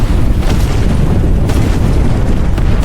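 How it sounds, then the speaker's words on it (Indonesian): A huge blast tears through an underground tunnel in a Rambo action film, a very loud and dense roaring boom that stays heavy and sustained before cutting off abruptly. "ledakan yang sangat dahsyat"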